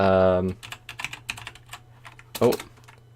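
Keys clatter on a computer keyboard in a quick burst of typing, close and fairly clear, with a loud held tone at the start and a brief louder flurry near the end.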